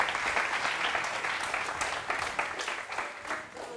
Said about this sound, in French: Ça s'applaudit, s'il vous plaît.